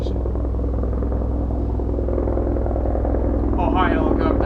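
A loud helicopter flies close overhead, its steady low rotor throb and engine drone filling the air continuously, with a person speaking over it near the end.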